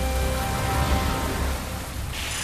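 Steady broadband rain hiss, as of lethal corrosive rain falling, continuous and dense throughout with a slight shift near the end; no voices.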